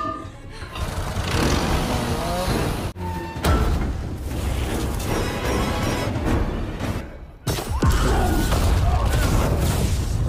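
A loud, rumbling bomb explosion in a film scene, with thick continuous roar and debris-like crackle, broken by brief drops before surging again.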